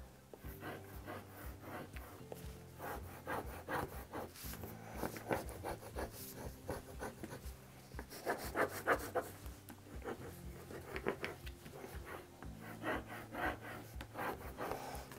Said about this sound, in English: take your score tool and just score it right along the edge